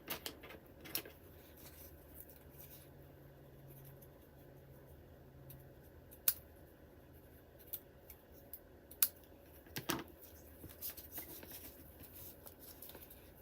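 Sharp scissors snipping paper for a junk journal, quiet intermittent clicks and cuts scattered across a faint room hum, with no talk.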